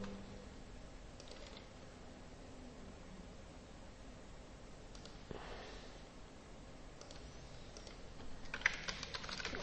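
Fingers tap out a command on a computer keyboard while setting up a database in Ubuntu, quiet irregular clicks in short bursts over a low hiss, growing denser and louder near the end.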